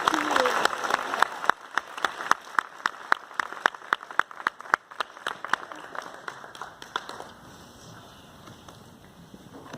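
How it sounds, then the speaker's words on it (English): Applause from an audience at a speaking event: sharp individual claps ring out in an uneven rhythm through the first several seconds, then thin to scattered claps as the room quiets. "Let's give one more round of applause for"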